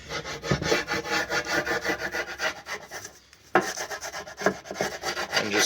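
A socket rubbed back and forth against an aluminum oil pan where the protective tape has worn through, giving a steady, close, raspy scraping in repeated strokes with a brief pause midway.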